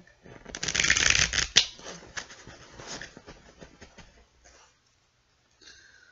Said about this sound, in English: Alright, so I think we have about 3 more shuffles,